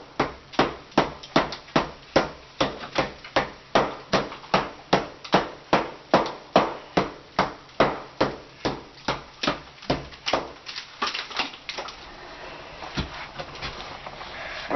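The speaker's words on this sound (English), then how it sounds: "I'm going to take out my hammer. I'm going to hammer across." A hammer striking steadily during a small bathroom renovation, roughly two dozen sharp evenly spaced blows close up, slowing and turning into lighter scraping knocks near the end.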